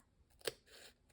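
A single sharp snip of scissors slicing across a paper card, one brief crisp cut standing out against a quiet room.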